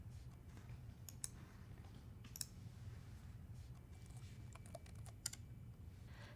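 A PowerShell command being typed on a computer keyboard: quiet, close, irregular key clicks in short bursts with a few sharper taps, over a low background hum.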